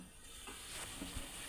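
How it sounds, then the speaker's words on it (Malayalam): Liver masala stir-fried with two tomatoes in a pan, giving a steady faint sizzle with a few soft spoon scrapes and stirring knocks near the end, no voices. "ശേഷം 2 ടൊമാറ്റോ നമുക്ക് മിക്സ് ചെയ്ത് കൊടുക്കാം"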